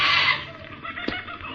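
Birds stir and chatter inside a large aviary at the corner of an old house, a busy, bright twittering that swells at the start and end with a brief sharper call in the middle, set as a radio drama effect.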